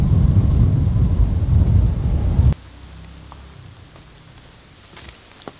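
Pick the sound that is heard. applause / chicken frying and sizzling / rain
rain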